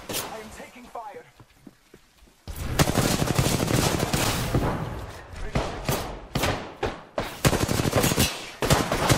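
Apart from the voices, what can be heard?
gunfire in the video game Apex Legends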